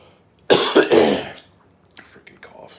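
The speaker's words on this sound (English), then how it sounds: "Freaking cough." A person coughs sharply a few times in quick succession, loud and close, during a pipe-smoking session, then a few softer rustling sounds.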